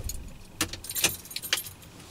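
Keys jangle several times in short metallic bursts inside a Nissan Sunny as its engine is switched off from a quiet idle, close and fairly soft with no talking.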